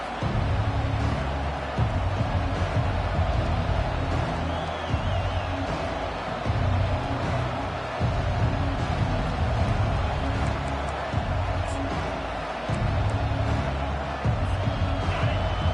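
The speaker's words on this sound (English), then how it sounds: "This crowd bringing an ear-splitting welcome to their visitors." A Clemson football stadium crowd roars in a dense, continuous wall of noise, loud and sustained throughout with a commentator's voice over it.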